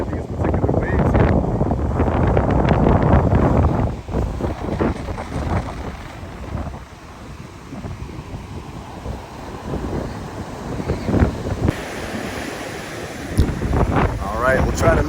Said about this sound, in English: Oh, there's that wind again.